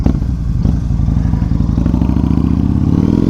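A 1900cc Yamaha Raider muscle cruiser motorcycle running close by, its big V-twin engine thumping in a deep, loud, steady pulsing rumble with no talking.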